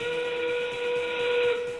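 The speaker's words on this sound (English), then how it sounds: "The sound of the horn means it is time for the pilots to release the ropes." A steady, sustained match horn at an FRC robotics competition signaling the end of a qualification match, with a bright, tonal, whistle-like quality, holding at an even level for the whole stretch.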